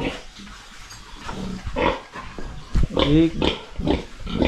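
Pigs on a farm grunt and squeal close to the microphone, with a sharper, louder cry near the end, while people talk throughout.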